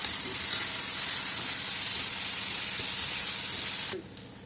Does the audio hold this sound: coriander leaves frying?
yes